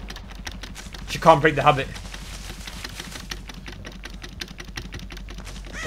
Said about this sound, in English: Bloody hell, Joe, your keyboard's loud.